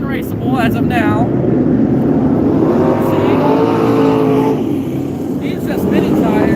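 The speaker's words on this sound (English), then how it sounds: "See? He's just spinning tires. Scott's just spinning out." Super trucks spinning their tires on a muddy, barely raceable dirt oval at Vado Speedway during a main event, a loud continuous engine roar with revving filling the whole stretch, while a voice talks over it.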